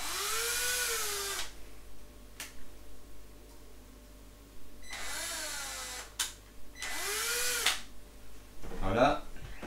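A power drill drives in fixings on a toilet seat in short, separate bursts, each whining up and then dropping away, with quiet gaps between them and a brief rattle near the end.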